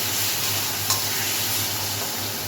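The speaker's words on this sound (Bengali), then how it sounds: "এবার মাংসগুলো আমি এক এক করে এর মধ্যে দিয়ে দিচ্ছি।" Mutton pieces dropping into spice masala in a hot pan, setting off a loud, steady hiss of sizzling oil that fills the whole stretch with no voices.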